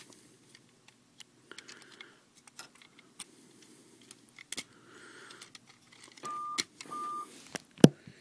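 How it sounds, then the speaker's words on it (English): A wristwatch beeps twice, with short, thin, clear electronic tones close by, amid light plastic clicks and taps from a toy being handled. "It is now 30 minutes past the hour, is what that beep means."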